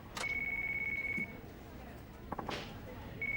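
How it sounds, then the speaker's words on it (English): A mobile phone rings in the video game Yakuza 5, a steady electronic tone that runs for about a second and returns briefly at the end, fairly faint under game ambience and a short voice. "Hey, your phone? Better see who it is."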